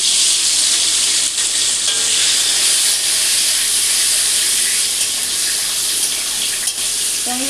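A large tomato frying in hot spiced oil for mutton curry, giving a loud, continuous, close-up sizzle that holds steady with only faint stirring underneath.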